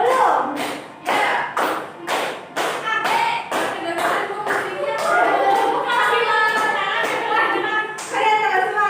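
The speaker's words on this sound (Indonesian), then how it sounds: "Boleh tepuk tangan" In a classroom during a peer-teaching practice session, a group of children claps in rhythm, with regular loud beats at first that turn into denser, overlapping clapping, and children's voices mixed in.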